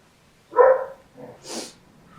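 A dog gives one short, breathy bark-like snort followed by two quieter huffs, close and alone in a quiet room.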